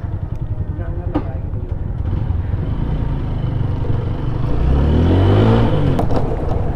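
A motorcycle engine revs during a day-long ride from Birtamode to Taplejung, its loud drone climbing in pitch near the end, with a voice talking over it.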